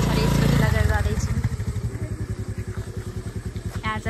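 A scooter's small engine idles and pulls away up close, a low, rapid, throbbing putter that keeps pulsing steadily after a louder rev at the start.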